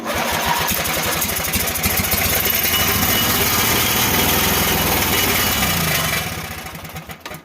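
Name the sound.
Lawn Boy mower engine starting on starter fluid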